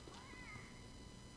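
A raccoon cat creature in the video game Don't Starve: Reign of Giants gives a single short, faint, wavering meow alone over quiet background.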